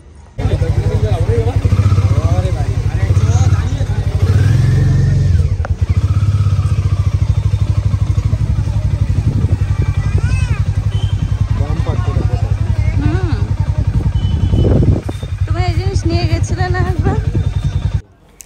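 Loud, steady motorcycle engine drone while riding, with people talking over it throughout. The engine cuts off at the very end.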